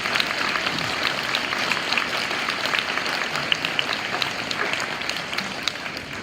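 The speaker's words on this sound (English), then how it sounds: "give a round of applause to you" Steady audience applause at an eighth grade promotion ceremony, a dense patter of many hands clapping continuously at moderate volume with no pauses.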